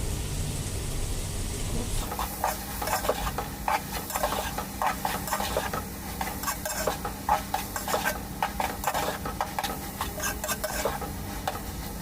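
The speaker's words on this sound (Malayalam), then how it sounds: "നമുക്കിതിനകത്ത് കുറച്ച് ഉപ്പൂടെ കൂടെ ഇട്ട് കൊടുത്തേക്കാം അപ്പം സവാള പെട്ടെന്ന് വഴണ്ട് കിട്ടും" Onions sautéing with salt in a pan for chicken majboos give off a steady close sizzle, broken by frequent scraping and clinking strokes as they are stirred, with no talking.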